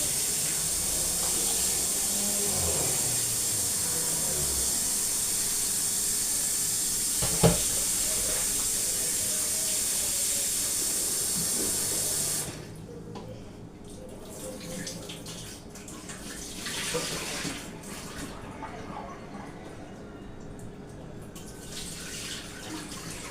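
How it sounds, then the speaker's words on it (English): Tap water runs steadily into a sink while strawberries and ginger are washed for a Jamaican-style fruit juice, a constant loud hiss for about twelve seconds, then the flow stops, leaving softer splashing and handling noises. "So I'm going to wash them again, let you see."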